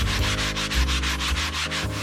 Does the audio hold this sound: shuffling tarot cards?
no